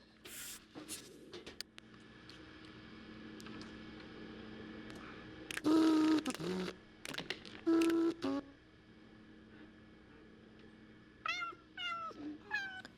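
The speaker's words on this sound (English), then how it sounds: "And the cats are always hungry, even though they are fed all the time." Hungry house cats meowing in a quiet room, several short loud cries in a cluster near the middle, then softer, higher chirping meows toward the end, between faint clicks and rustles.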